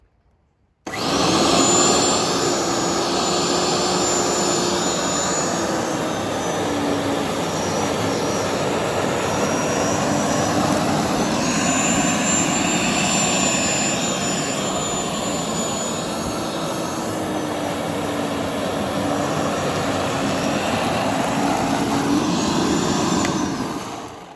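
A Parkside PLV 1500 B1 electric lawn scarifier works a grassy lawn on its lowest setting. Its motor runs loudly and steadily for over twenty seconds with a high whine that rises and falls slightly, and no one speaks.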